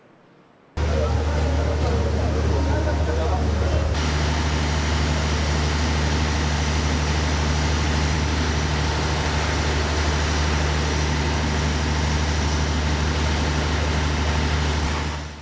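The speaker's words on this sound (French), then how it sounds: "se plaignent du bruit du groupe électrogène qui les alimente quotidiennement" A diesel power generator supplying a town's homes runs loud and close, kicking in after a second and holding a steady, heavy mechanical drone with a deep low hum throughout.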